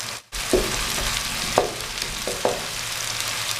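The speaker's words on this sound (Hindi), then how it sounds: "अब इसको अच्छी तरह भून लेंगे मसाले को" Spice masala frying in ghee for kuska, a spiced rice dish, with a continuous close sizzle and a few spoon scrapes and stirring knocks against the pan, no voices.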